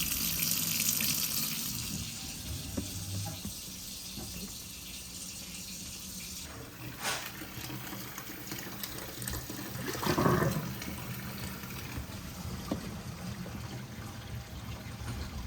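Water runs into a kitchen sink fitted with an InSinkErator Badger 1 garbage disposal during a leak test, a steady splashing flow with a couple of louder gurgling bursts partway through.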